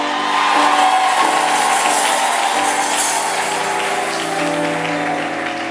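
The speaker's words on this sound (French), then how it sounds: "Est-ce qu'on peut pousser les cris de joie?" An audience raises cries of joy with loud, sustained cheering, whoops and applause from a crowd, filling the space continuously for several seconds.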